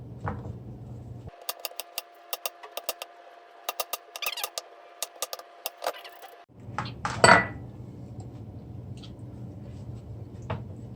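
Onion being chopped with a knife on a cutting board, a quick run of sharp, close taps in uneven bursts, followed by a brief clatter and quieter handling noise.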